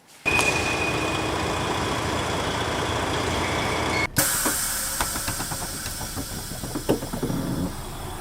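The engine of a new company coach bus runs with a steady, loud droning hum and hiss, then breaks briefly before continuing with light rattles and knocks.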